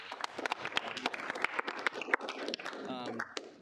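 A brief scattered round of applause at a student senate meeting, irregular claps from a modest group, fairly faint with voices mixed in.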